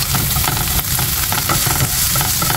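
Leftover chicken adobo sautés in a pan with a steady, close sizzle, broken by the scrape and knock of stirring throughout. No one speaks.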